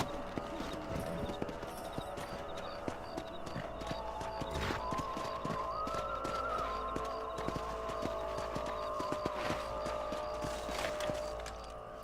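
Horse hooves clip-clopping in the video game Red Dead Redemption: a steady rhythmic hoofbeat over constant game ambience and music, with occasional snorts or whinnies and no voices.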